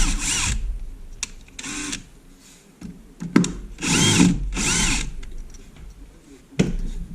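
A power drill backs two screws out of a homemade Dremel router table in separate bursts of high whine, each lasting about half a second to a second, with quieter handling clatter between them.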